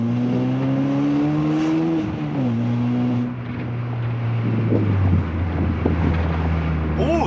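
A Mark 6 car with a swapped engine and an entire new loud exhaust system idles and drones with a deep, low tone, its pitch sagging slightly as it settles, under steady wind noise.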